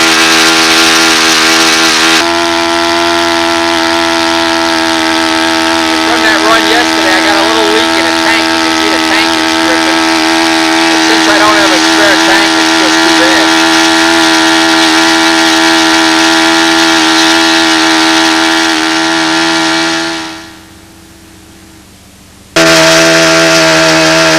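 A small racing engine runs wide open at about 9,700 RPM with a 14.5 rev-up, a loud, sustained high-pitched whine that holds steady, then cuts out suddenly near the end before roaring back briefly.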